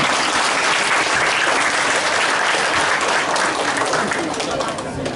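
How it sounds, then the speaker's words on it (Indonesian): A large audience at a campus discussion event with a film's cast and director bursts into loud, sustained applause. The clapping is dense and continuous, with crowd noise mixed in, and fades slightly at the end. "Tepuk tangan untuk kampus yang tidak terkenal."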